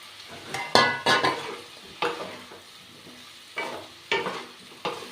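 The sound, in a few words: ivy gourd and potatoes being stir-fried in a pan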